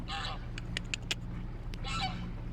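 A goose honks in two loud, harsh bursts, one at the start and one near the end, with a few sharp clicks between them. The calls sit over a steady low engine-like drone outdoors on the Lot river, and the goose is likely escaped from a farm.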